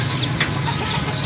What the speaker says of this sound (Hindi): बटेर हैं ये,